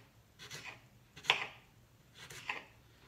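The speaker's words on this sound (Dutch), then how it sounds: "Dan ga ik gewoon reepjes snijden." A knife chops tomatoes into strips on a cutting board in three separate strokes, close and crisp, with quiet pauses between them.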